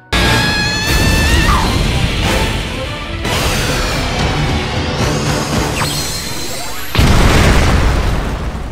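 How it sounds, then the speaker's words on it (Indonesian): A giant fire explosion booms through an arena in an animated fight, a heavy sustained roar with crackling bursts, sharp hits and a fresh loud blast near the end. "dia pun melepas serangan pamungkas, yaitu ledakan api raksasa yang ngeguncang seluruh arena"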